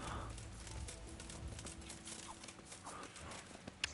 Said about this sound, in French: il y a un cheval là qui vient de me courir dessus